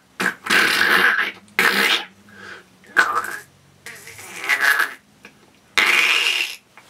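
A person imitates fart noises with the mouth or arm in a series of short, loud, buzzing bursts, close and alone, separated by brief pauses.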